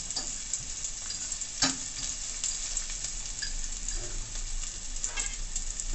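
Garlic and ginger sizzle steadily in a hot pan for a Jamaican curry fish, a constant broadband frying hiss with a few soft clicks of stirring, close and even, no voices.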